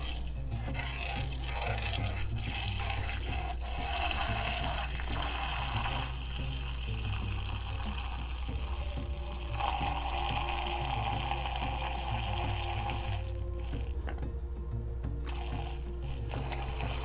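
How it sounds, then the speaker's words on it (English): Tap water pours steadily into a soapy, solubilized essential oil mixture for a spray, a continuous close splashing stream with no talk over it. "Then you can now add your water to it."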